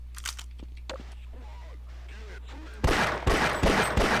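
Sparse game sounds give way to a quick series of sharp, loud pistol shots in a video game, several distinct cracks spaced a fraction of a second apart.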